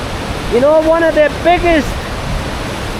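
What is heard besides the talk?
rushing water draining into a large hole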